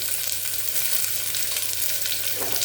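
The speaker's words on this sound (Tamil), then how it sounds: "வெங்காயம் நல்லா வதங்கட்டும்." Sliced onions sautéing in a hot pan with oil for meal maker biryani, giving a steady, close, continuous sizzle and crackle with no talking.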